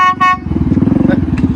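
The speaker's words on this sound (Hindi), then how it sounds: "लो भाई वो हॉर्न की आवाज़ सुन लो" Train-style horn fitted to a Hero Splendor motorcycle gives a short loud toot, then the bike's engine chugs in a fast steady putter close by.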